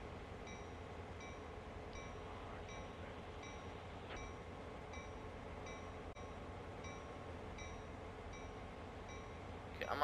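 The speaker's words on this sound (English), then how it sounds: "Let's get this loco moving." Locomotive in a train video game starting to move under throttle: a quiet, steady low rumble with evenly spaced light clicks repeating through the whole stretch, no voices.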